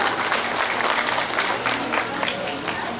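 An audience applauding at an inauguration ceremony on stage, a steady wash of many hands clapping close by for the whole stretch, with some voices faintly mixed in.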